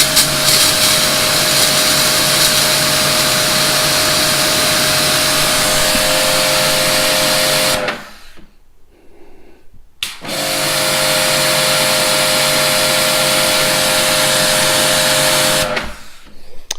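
A Karcher K7 pressure washer runs loud and steady with a constant motor whine, cutting out briefly twice as the trigger is released and then resuming.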